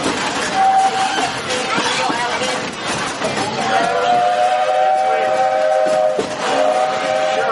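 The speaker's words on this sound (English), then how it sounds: "This old steam train needs water to keep going, just like you and me." An old steam train on the Walt Disney World Railroad rumbles along while its whistle sounds in sustained tones, once early and again more strongly later, with a narrator's voice speaking over the rolling clatter.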